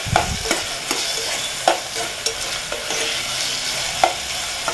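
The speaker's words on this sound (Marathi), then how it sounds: "असं 2-3 मिनिटे याला परतून घेऊ।" Raw peeled potato slices frying in ghee, with a steady sizzle throughout and a spoon scraping and stirring the pan in repeated sharp strokes, close and fairly loud.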